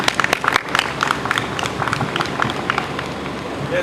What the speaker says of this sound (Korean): 함께 해주신 세 분께 큰 박수 보내드리셨으면 좋겠습니다